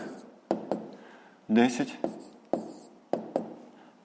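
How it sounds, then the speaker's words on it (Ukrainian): Someone writes an answer by hand on paper during a fifth-grade maths exercise: a series of crisp taps and short scratches at irregular intervals, with a brief voiced sound partway through. "записуємо відповідь, пишемо відповідь"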